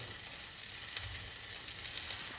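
Mushrooms and peas sizzle steadily in a pan with browned onions, a soft continuous frying hiss at moderate level with no talking.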